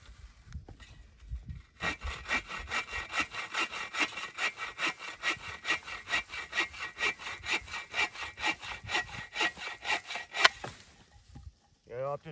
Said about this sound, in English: that's pretty good size wood there to be bucking up with the little buck saw